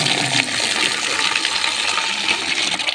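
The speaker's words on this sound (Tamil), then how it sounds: "இந்த ஒரு பக்கெட் நிறைய தண்ணியை பிடிச்சி" Water gushes steadily into a bucket, a constant rushing splash with no pauses.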